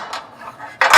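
Metal muffin tins and loaf pans clatter in a kitchen baking cupboard, with a light knock near the start and a loud, bright rattling burst at the end.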